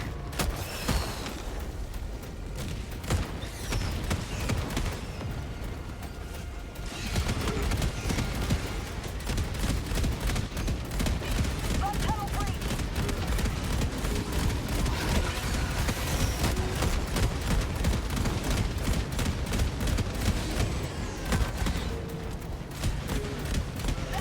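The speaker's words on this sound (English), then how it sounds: "The autocannon mech is, I mean, doing good work" Steady rapid cannon fire from an autocannon mech in the video game Helldivers, a dense continuous barrage of booming shots with rumbling background noise throughout.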